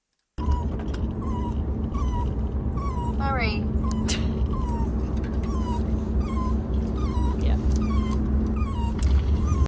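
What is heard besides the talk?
dog whining in a car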